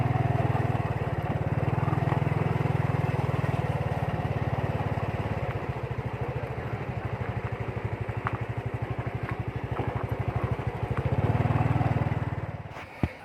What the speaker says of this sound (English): This is parking area of Tukad Cepung Waterfall, and where I stand now is parking for motorbike